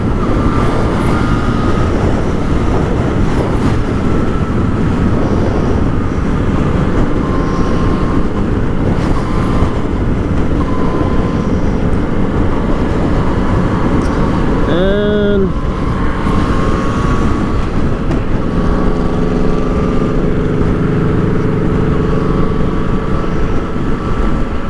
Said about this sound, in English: so much fun to ride this motorcycle, man